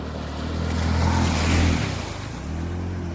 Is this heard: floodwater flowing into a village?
yes